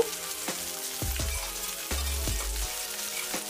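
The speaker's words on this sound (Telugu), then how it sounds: "వెల్లుల్లి కారం వేసేసుకుని ఒక 1 మినిట్ 2 మినిట్స్ వరకు ఫ్రై అవుతే సరిపోతుంది" Garlic chilli paste fries with sliced okra in a pan, a continuous crackling sizzle punctuated by several low thumps and scrapes from stirring.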